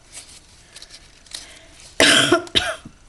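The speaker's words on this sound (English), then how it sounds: "I start coughing right away with the pepper" A burst of harsh, close coughing near the end, two or three rough coughs set off by pepper, after a quieter stretch of faint background sounds.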